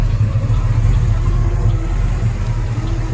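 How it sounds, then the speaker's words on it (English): A 1968 Pontiac Firebird convertible with a 1975 Pontiac 350 engine and dual exhaust with turbo mufflers idles with a steady, deep low rumble, running continuously and fairly loud throughout, with no voices. "it runs fine, sounds pretty good. Dual exhaust, some kind of turbo muffler on it."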